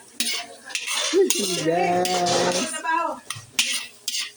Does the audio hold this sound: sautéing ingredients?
yes